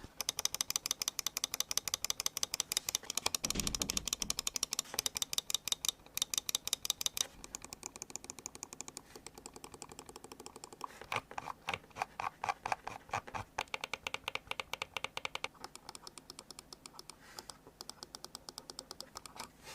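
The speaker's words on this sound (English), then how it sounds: "let's do a quick little click test for you guys to hear what this thing actually sounds like" Rapid, crisp clicking of Razer Cobra Pro mouse buttons close up, long fast bursts of clicks with brief changes in pace and no talking.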